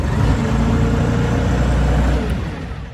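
A MultiOne 8.5SK compact loader engine runs with a loud, close low rumble that holds steady and then eases off near the end, with no voices.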